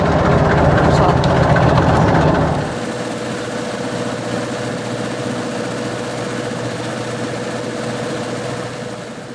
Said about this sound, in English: They had trouble again starting the motor